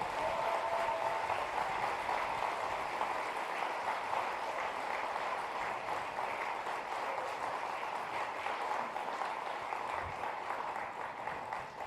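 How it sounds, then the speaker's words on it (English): Steady, sustained applause from a large audience greeting special guests at an opening ceremony, a continuous wash of clapping with no breaks, heard at moderate distance. "You may now applaud."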